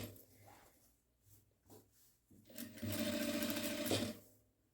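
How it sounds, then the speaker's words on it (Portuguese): Sewing machine topstitching a seam on a rolled dish towel, short bursts of close mechanical whirring between pauses, ending in a longer, louder steady run of stitching. "Faz uma costurinha de pesponto, abrindo bem a minha costura"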